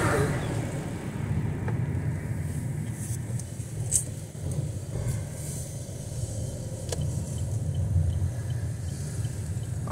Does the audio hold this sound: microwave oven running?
no